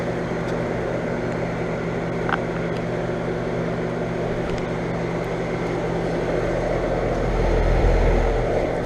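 A 2012 American Standard 4 ton central air conditioner with a Gen-Tech fan motor runs outdoors, a steady close-up hum and fan drone with a low rumble swelling near the end.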